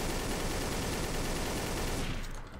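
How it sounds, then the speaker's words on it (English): Sustained rapid gunfire in the online game Trouble in Terrorist Town set in space, a dense, loud barrage of shots that rolls on steadily before cutting off near the end. "Logan's shooting at me now"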